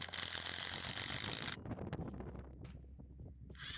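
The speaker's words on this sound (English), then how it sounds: "Then secure the rails with some 1 1/4 inch galvanized lag bolts." A ratchet wrench drives 1 1/4 inch galvanized lag bolts through a 2x4 rail into a wooden picket fence post outdoors, giving steady close mechanical clicking and grinding that drops off partway, leaving softer rattles and light wind noise.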